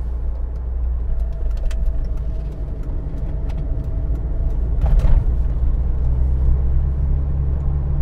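An Austin Metro with a new radiator and thermostat slowing as it leaves the motorway, a steady low engine and road rumble heard from inside the car, with a few faint clicks and a brief rising swell midway.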